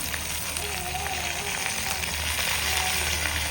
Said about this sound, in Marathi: आणि याला आता चांगलं परतून घेणार आहे